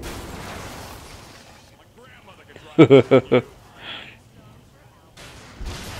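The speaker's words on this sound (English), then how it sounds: "Oh, I still got knocked back by the explosion." A bomb explosion in Saints Row: The Third co-op on PS3 fires off as a quick cluster of four loud blasts, then a softer rumble trails after them. Players talk over the sound before and after it.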